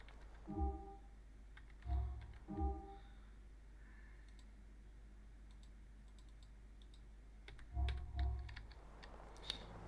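Clusters of computer keyboard key presses while playing GTA 4, a few short bursts of clicky typing separated by pauses, close and fairly quiet with no speech.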